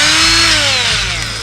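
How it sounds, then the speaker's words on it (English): A cordless Milwaukee 90-degree die grinder spins at high speed, giving a loud, close, continuous whine whose pitch sags slightly as it runs briefly on its own. "one of the tools that to me has been a game changer is this Milwaukee die grinder"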